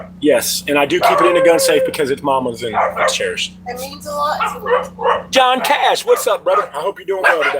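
Dogs bark and yip outside while they play, in repeated bursts under someone talking close by.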